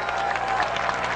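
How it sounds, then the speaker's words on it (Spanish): A church congregation at a Spanish-language evangelical service claps in a dense, continuous round of applause with no voices heard. The clapping is close and fairly loud and lasts only a moment. "denle un aplauso grande a Jesucristo"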